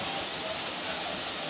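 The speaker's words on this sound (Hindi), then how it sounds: "ये मैं डाल रही हूँ इसमें 1 कप पानी।" A cup of water pours into a pan of masala potatoes, producing a steady, dense rushing splash that runs evenly and close throughout without pause.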